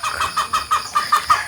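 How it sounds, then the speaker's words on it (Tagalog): A chicken clucks in a quick repeated series, about eight short clucks in an even rhythm, close and fairly loud. "Yan manok."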